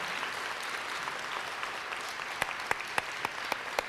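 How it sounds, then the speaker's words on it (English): An audience at a school moving-up ceremony applauds three student speakers with a soft, even wash of clapping, several sharper claps from close by standing out toward the end. "Can we have another round of applause for our 3 student speakers tonight?"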